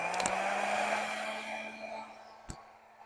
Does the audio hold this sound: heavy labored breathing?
no